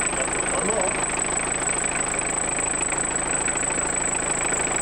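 Car engine running with a suspected faulty damper pulley, a steady close mechanical drone with a constant high whine over a low engine hum, continuous and fairly loud throughout.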